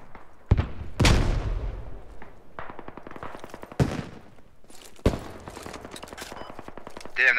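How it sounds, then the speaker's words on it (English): Bursts of gunfire crack and boom in a squad battle in the military shooter Squad, with single shots and rapid automatic volleys, some loud and near, others more distant, plus a bullet zipping past. "Damn, that bullet whizzed right past me."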